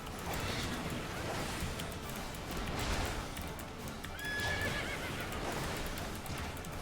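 A horse, a kelpie in a video game, gives a high whinny over a steady bed of game ambience and noise, with soft hoof clip-clops faintly in the background.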